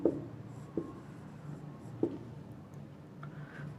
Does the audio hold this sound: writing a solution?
yes